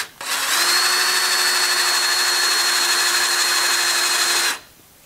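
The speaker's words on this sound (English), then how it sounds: "So now I'm going to just widen them out with the 1/4-inch bit." Power drill with a 1/4-inch bit widening holes in a seat-post bike trailer hitch, one steady high whine that spins up, holds for about four seconds, then stops abruptly; close, loud and alone.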